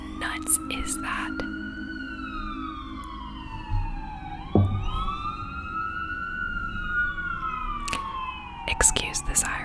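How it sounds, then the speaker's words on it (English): Outdoors, an emergency vehicle siren wails in long rising and falling sweeps, heard from a distance and moderately faint. Soft whispering and small handling noises sit close in the foreground. "Excuse the siren."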